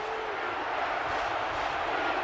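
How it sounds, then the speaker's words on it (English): Stadium crowd roaring at a USC vs Notre Dame football game, a dense, sustained wall of cheering and shouting that stays loud and unbroken from start to finish. "this crowd is making their presence felt"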